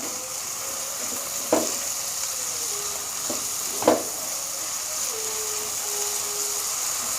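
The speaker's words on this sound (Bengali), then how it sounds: "নেড়ে চেড়ে টমেটোটাকে নরম করে নেব" Tomatoes with salt soften in a pan over raised flame, giving a steady, fairly quiet sizzle with a few sharp knocks of a spoon stirring against the pan.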